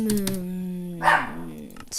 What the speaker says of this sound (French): Désolé pour l'aboiement si vous l'avez entendu.